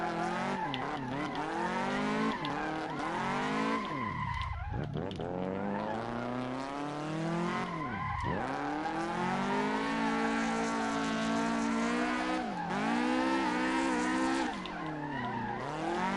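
A car drifting in Assetto Corsa, its tires squealing almost nonstop with pitch that swoops down and back up as the slide snaps and recovers, loud and close over the engine.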